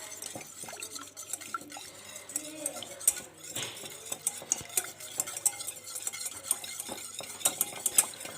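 A spoon stirs homemade syrup together with caramel flan mix in a bowl, giving steady scraping with frequent sharp clinks of metal against the dish, close and fairly quiet, with no talk.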